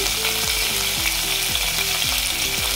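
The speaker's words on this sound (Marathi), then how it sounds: "हे पहा, शेवगा परतून झाला आहे।" Drumstick pods sauté in a pan with a little salt and turmeric for a toor dal mixed vegetable dish, giving a steady, close, even sizzle that hisses without break throughout, with faint tonal sweeps underneath.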